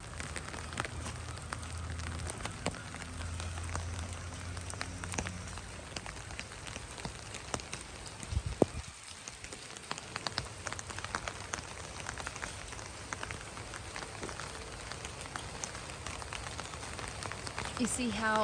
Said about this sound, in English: So it's pouring down raining, okay?